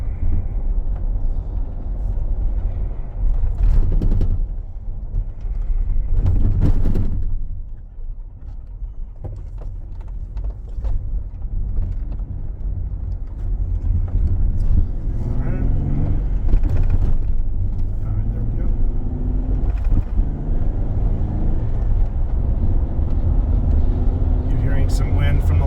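A lifted 2015 Jeep Wrangler Unlimited with a manual gearbox drives along, its engine a steady low rumble that rises and dips through gear changes, while someone talks over it from inside the cabin.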